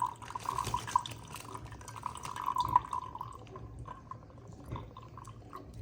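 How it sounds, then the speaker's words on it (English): Water is poured from a bottle for an instant-ice demonstration, a faint, close trickle and splash with a ringing tone that rises and fades over a few seconds. "So I'm gonna pour some water."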